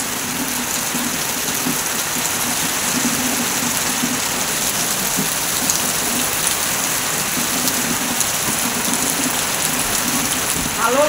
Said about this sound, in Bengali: যেহেতু টিনের চাল, এই যে টিনের চালে তো বৃষ্টি ফোঁটা